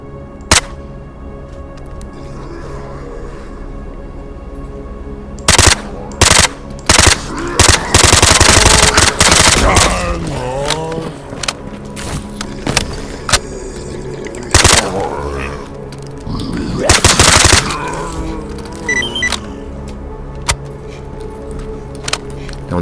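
Gunfire in the video game S.T.A.L.K.E.R. comes in loud bursts of rapid shots and single cracks, separated by quieter stretches with background game sounds.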